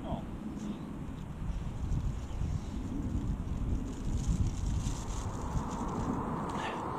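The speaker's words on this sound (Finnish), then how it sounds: "Tuuli kovenee." Strong wind buffets the microphone with a steady, heavy rumble that surges and gusts throughout.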